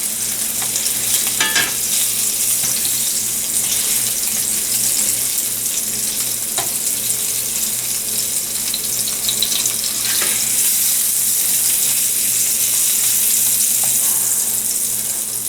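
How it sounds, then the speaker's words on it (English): Tuna steaks sizzle and crackle steadily in a hot pan over medium heat, loud and close with no break, and a few sharper pops rise out of the frying. "I'm cooking this probably on medium heat now, even though the pan got nice and hot"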